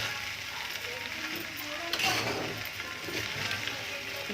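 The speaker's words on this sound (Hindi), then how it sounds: "इसको अब अच्छी तरह से चलाऊंगी" Poha is stirred in a pan after salt goes in, with a steady soft scraping and light sizzle that continues evenly under a little background noise.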